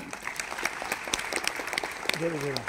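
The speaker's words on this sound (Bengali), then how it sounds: "আপনাদের নিজেদের জন্য একটা জোরে হাততালি" An audience at a program applauds itself in a close, steady round of clapping. A voice starts talking over the clapping near the end.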